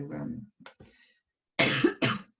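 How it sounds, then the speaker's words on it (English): A person coughs a few times in a quiet indoor setting, two loud, harsh bursts near the end following a brief stretch of speech-like sound and a pause. "you're not supposed to cough these days, are you?"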